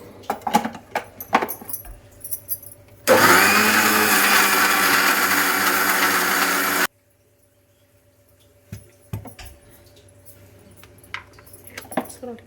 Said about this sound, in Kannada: ನೀರು ಹಾಕ್ಕೊಂಡು ಈಗ ರುಬ್ಕೊಂಡ್ಬಿಡೋದು.